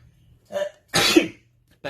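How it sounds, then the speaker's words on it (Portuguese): A single sneeze bursts out loudly and close, preceded by a brief sharp intake of breath, in a quiet room during a lecture; a short vocal sound follows at the end. "Perdão, hoje tem até espirro."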